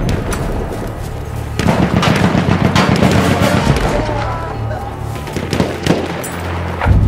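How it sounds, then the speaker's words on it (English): Machine gun fire in Battlefield 1 multiplayer, with rapid bursts of shots and scattered blasts crackling over a continuous battlefield din. The fire is loud and close and comes in irregular clusters through the whole stretch. "Enemy machine gun over there!"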